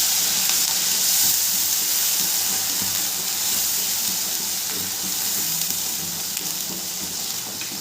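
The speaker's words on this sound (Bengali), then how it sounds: "খুব ভালো করে মশলাটাকে নেড়ে নেব।" Ginger paste and spice masala sizzle in a pan as they are stirred for an egg curry, a steady close hiss of frying with faint scraping underneath, continuous throughout.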